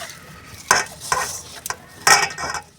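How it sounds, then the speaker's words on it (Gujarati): Potato sev dough being mixed with added oil in a bowl: a few short, squelchy, scraping mixing strokes, close and distinct against a quiet background. "હવે આપણે એમાં તેલ એડ કરીશું અને લોટને સરસ રીતે આપણે મિક્સ કરી દઈશું."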